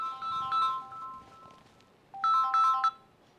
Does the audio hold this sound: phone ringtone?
yes